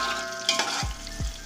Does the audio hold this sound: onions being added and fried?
yes